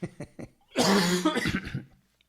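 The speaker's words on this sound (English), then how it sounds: "Go ahead, cough away" A few short dry coughs lead into a harsh, drawn-out coughing fit with throat clearing, close up and fairly loud.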